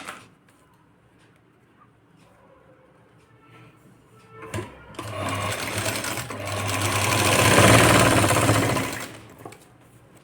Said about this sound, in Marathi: आता आपण टक्स मारून घेऊ ब्लाऊजला